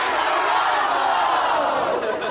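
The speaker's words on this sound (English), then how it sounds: "What did the crowd shout?" A studio audience on a live breakfast television show shouting together, a loud, sustained wash of many mixed voices that holds steady throughout.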